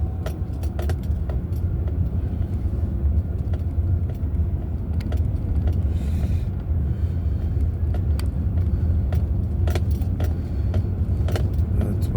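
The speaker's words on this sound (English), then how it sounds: "Keys making noise, bouncing around in the ignition." Keys jangle loosely in the ignition of a car driving through rural Oklahoma, a faint rattling over the steady, loud engine and road rumble throughout.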